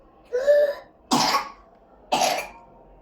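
A person coughs three times close by, a short voiced hack followed by two rough, breathy coughs spaced about a second apart, with quiet between them.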